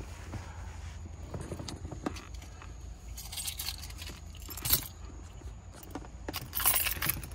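Car keys jingling and clinking in a hand in short metallic bursts, close and moderately loud, the brightest rattles coming near the middle and end.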